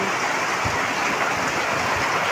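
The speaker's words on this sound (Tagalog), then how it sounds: "At umulan na ng napakalakas mga idol." Heavy rain pours steadily over an outdoor flower festival procession in Lopez, Quezon, a dense, even hiss with no pauses, loud and close, with no voices over it.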